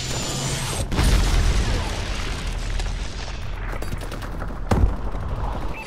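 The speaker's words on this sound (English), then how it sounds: "Friendly Vulcan above." Heavy gunfire and booming blasts from a Vulcan gunship in a shooter video game, a loud continuous rumble of rapid fire with a sharp burst near the start and another around the fifth second.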